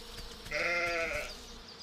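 A single sheep in a video game lets out one drawn-out bleat, close and fairly loud, over a faint ambient background with no talking.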